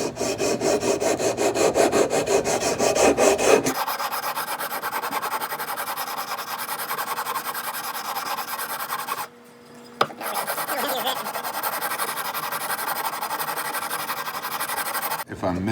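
Loud, close abrasive rubbing and filing on the frets of a 1970s Gibson ES 347 neck during leveling and dressing, continuous strokes with a brief pause near the end and faint talk in places.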